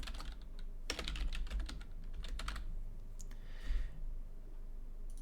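Rapid bursts of keystrokes clatter on a computer keyboard, close and clear, with short pauses between runs of typing and no speech.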